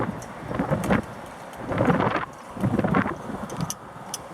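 Strong wind gusts from a winter storm roar across an open outdoor spot in waves of loud, broadband rushing. Each surge rises and falls over a second or so, with brief lulls between them and no one talking.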